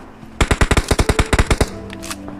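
A burst of automatic gunfire in the PUBG Mobile shooter game, about a dozen rapid, loud, evenly spaced shots in quick succession, then a faint tail of game sounds, with no talk.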